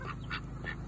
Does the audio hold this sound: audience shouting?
no